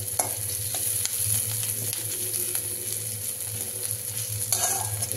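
Spices crackling in hot oil for a paneer and mushroom dish, steady frying sizzle with repeated metal stirring scrapes and taps close by.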